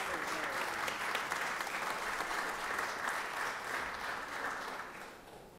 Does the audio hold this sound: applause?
yes